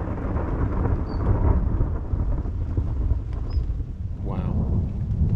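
Heavy rain pours steadily during a thunderstorm, with a low rumble of thunder rolling underneath and a brief swelling crash near the end, all close and loud with no talking.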